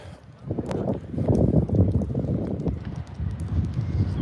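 Steady coastal wind at Hastings buffeting a microphone, a low rumbling roar that swells and dips continuously, with no one speaking.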